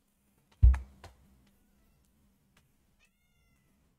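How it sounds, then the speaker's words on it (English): A house cat lets out one loud, sharp cry near the mic, followed by a shorter second call, then quiet with faint clicking like keyboard taps in the background. "Hold on, my cat is screaming."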